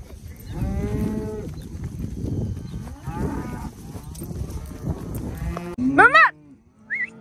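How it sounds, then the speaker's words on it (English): Cows on a farm moo repeatedly, several long, loud, close lowing calls in succession, followed by a short higher bawl near the end. "Cows are out."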